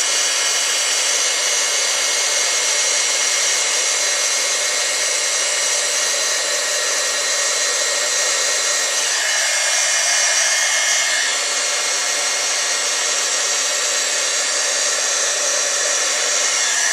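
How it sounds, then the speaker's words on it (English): A handheld heat tool roars with a steady, loud blowing hiss as it melts heat-and-stick embossing powder and glitter, its tone shifting briefly midway as it passes over the surface. "now I'm going to take my heat tool again, and I'm going to go right back over where that glitter is"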